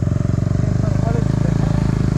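Motorbike engine idling and revving close by, a steady rumbling throb with a gurgling exhaust note, while someone talks over it.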